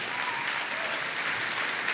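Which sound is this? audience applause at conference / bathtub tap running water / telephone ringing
audience applause at conference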